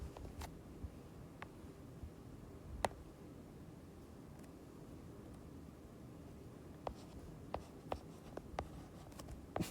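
Pen or pencil writing notes on paper, faint scratching strokes with a few sharper ticks and taps spread through, quiet and close with no talking.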